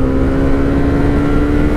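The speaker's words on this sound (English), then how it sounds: "Then I'm going to nail it and we shall see on the rev counter where it kind of picks up." A Honda CRF250 Rally's 250 engine is held hard on the throttle, giving a loud, close, steady buzzing drone with a strong tonal whine and no voices over it.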